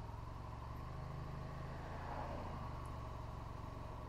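Road traffic heard from a moving motorcycle: a faint, steady low engine rumble with a constant hum and light wind noise, no voices.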